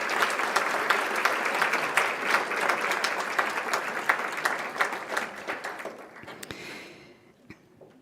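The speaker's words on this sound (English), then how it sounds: "Let's have another round of applause for these wonderful recipients." A gala audience at a scholarship ceremony gives sustained, dense applause that holds steady for several seconds, then thins out into a few scattered final claps and fades.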